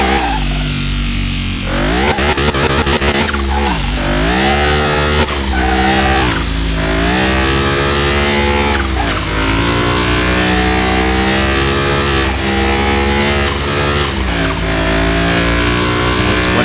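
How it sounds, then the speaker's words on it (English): A Jaguar XJ220 engine in Car Mechanic Simulator 2021 revs hard and loud, climbing in pitch through repeated gear shifts with brief dips between each upshift. "Let off the gas when it shifts gears and then get back on it."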